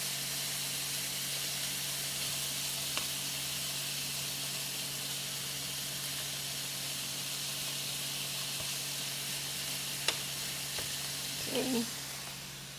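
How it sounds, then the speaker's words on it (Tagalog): Pork with shrimp paste sizzles steadily in a pan, a constant hissing fry that runs throughout with a few faint clicks near the end. "Luto ng ating pork."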